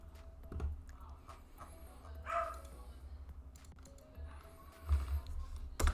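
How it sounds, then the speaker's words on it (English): Dog barking indoors in a home, a few short faint barks and whimpery sounds scattered through the background amid soft keyboard typing and low room noise. "One of my dogs is being noisy."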